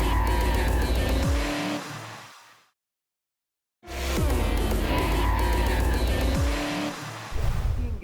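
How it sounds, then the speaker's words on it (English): Race cars on a snowy starting grid before an Elite Pro final, including a Sebastian Loeb Racing AS1, with loud engine roar and revving that cuts out briefly, then returns with tire noise and skidding. "Cars on the snowy grid for the Elite Pro final."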